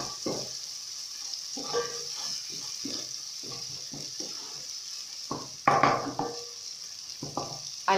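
Ginger frying in a pot for pilau gives a steady low sizzle, broken by repeated scraping bursts of stirring, with a louder clatter near the end.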